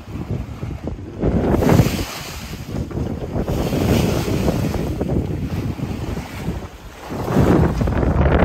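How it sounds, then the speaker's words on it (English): A sailboat bashing into waves on a windy Lake Ontario, with loud, surging water crashes against the hull and heavy wind buffeting the microphone, rising and falling in rough swells. "in some of these waves and give you an idea of what we're bashing into"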